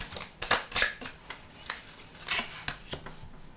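Tarot cards being shuffled, a series of crisp irregular riffles and flicks, fairly close and moderately loud.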